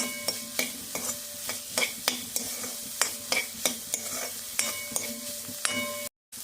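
Soup ingredients frying in butter in a pan, with a steady sizzle under rhythmic, evenly spaced stirring clinks, close and clear, cutting off abruptly near the end.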